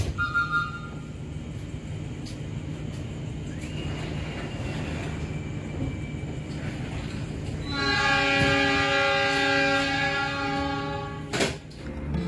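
The Gajayana passenger train departs Bumi Ayu station in Indonesia: a low rolling rumble builds, then a loud, sustained horn blast sounds for several seconds before cutting off abruptly.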